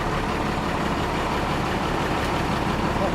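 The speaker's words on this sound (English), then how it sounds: "Start the engine." A Class A truck's engine idles just after starting, in a steady low diesel rumble that holds evenly throughout with no talk over it.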